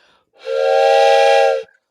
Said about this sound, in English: that's the wisdom whistle